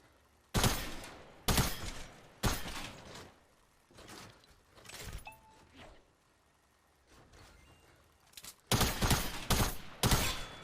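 Burst SMG fire from the video game Fortnite comes as loud, sharp clusters of rapid shots separated by short pauses. The gameplay audio is close and punchy, with no talking over it.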